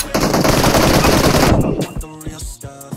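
Rapid automatic gunfire from the PUBG Mobile video game, a loud dense burst of shots followed by a few separate, spaced single shots.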